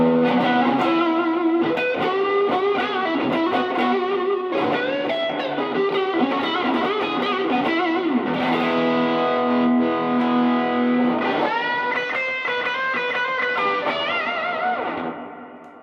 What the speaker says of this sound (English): use your overdrive in front of your vintage tube amp